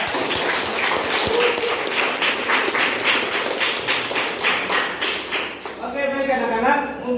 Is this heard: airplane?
no